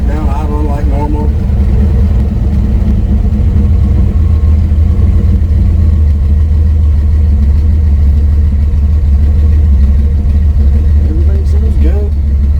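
A boosted C20 Chevy truck engine idles with a loud, steady, deep rumble up close, settling into an even idle, with brief voices near the start and end.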